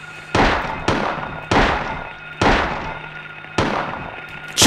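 Gunfire in the Silent Hill horror video game: five loud, sharp shots at uneven intervals, each followed by a short echoing decay, with a low steady hum underneath.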